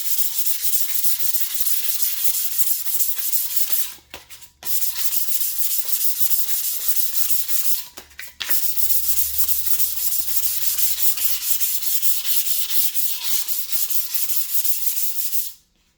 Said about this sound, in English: I just grab some sandpaper and go to, this one's 220 grit